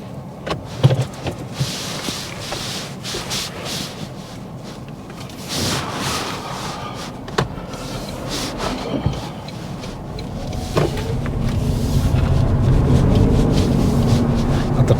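A car pulls away during a mock driving test, with cabin noises and clicks at first, then engine and road rumble rising steadily as it gathers speed.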